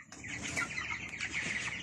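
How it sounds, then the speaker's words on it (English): Many three-week-old meat chickens cheep and cluck together in a dense, continuous chorus, close and fairly loud. "so here are the meat chickens now. They are 3 weeks old"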